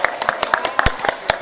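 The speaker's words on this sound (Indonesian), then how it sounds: "Tepuk tangan dulu buat santrinya." An audience at an Islamic sermon claps for the students in a quick, uneven burst of close, sharp handclaps lasting under two seconds.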